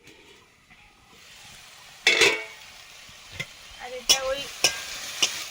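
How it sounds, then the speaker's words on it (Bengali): Beetroot and carrot fry in a pan, a soft sizzle broken by several sharp stirring clacks of a utensil against the pan, close by, with someone speaking briefly in Bengali. "বিট আর গাজর একটু ভাজা করে নিচ্ছি"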